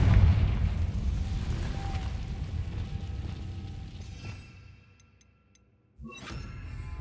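Fire spell Confringo blasting in Hogwarts Legacy, a dense roaring burst that rumbles on for several seconds, then cuts to near silence before a second sharp crackling impact.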